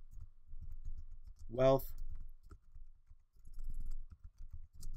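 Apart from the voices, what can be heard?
typing on a computer keyboard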